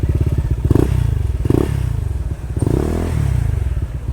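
A motorcycle engine revs high near a river outing in Infanta, Pangasinan, a loud close rumble that surges in repeated bursts with clatter and thumps mixed in.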